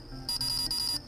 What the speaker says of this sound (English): that beeping is really annoying